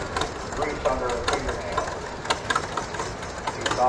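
A vintage tractor engine runs during a small-town tractor parade, making a low, uneven chugging idle with knocking pulses. It sits fairly faint under a loudspeaker commentator's talk, and crowd noise can be heard around it.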